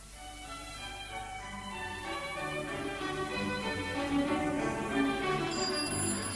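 Telephone ringing in a domestic scene of a radio drama, a steady, sustained electronic bell tone held for several seconds at moderate loudness with no voices over it.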